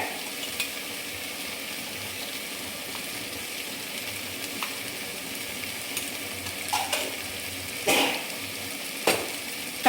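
Salted onions sizzle steadily in hot oil for chicken banana leaf biryani, with a few brief scrapes and clinks from stirring near the end; no voices.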